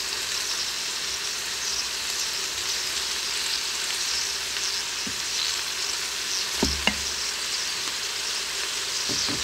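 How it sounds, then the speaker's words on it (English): Onions sauté in an Instant Pot with a constant, even sizzle held close and loud, broken by a few sharp utensil taps and stirring knocks toward the end, with no talk. "I'm going to wait on adding some of the other spices until those onions get sauteed a little bit"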